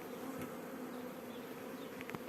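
A dense, steady buzzing of many honey bees surrounds the listener, a constant hum with a few brief clicks and knocks near the end.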